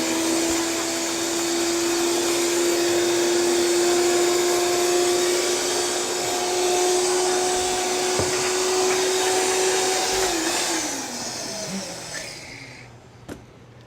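A blender motor whirs loudly and steadily for about twelve seconds as it purees a mixture for a Bellini, then winds down with a falling pitch before stopping.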